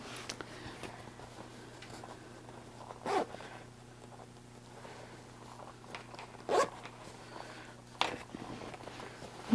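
Zipper on a sewn cash wallet being worked, with three brief separate zips spaced a few seconds apart, close and soft, amid quiet handling noise and a low steady hum.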